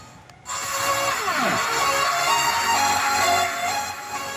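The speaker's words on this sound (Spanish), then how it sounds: "Suena así por la bocinita, ya que es una bocinita pequeña." A sustained, tinny electronic test tone with a sweeping pitch glide from an audio mixing console plays through a small, boxy speaker, loud and steady with no voices.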